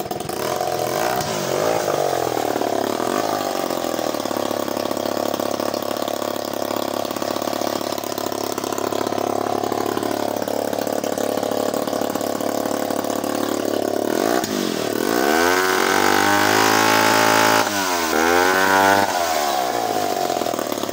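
A vintage Remington Bantam professional chainsaw engine runs loud and close, holding a steady buzzing idle before revving up in several rising bursts toward the end.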